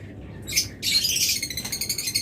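A pair of opaline budgerigars in a bird shop chirps in quick high tweets, a short burst first and then a denser run of rapid chattering calls, close and fairly loud.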